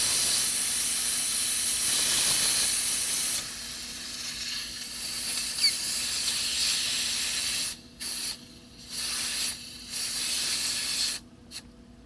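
Water boils inside an Afghan pressure cooker being cleaned, giving a loud, steady, close hiss that runs almost unbroken, then cuts out in several short gaps near the end.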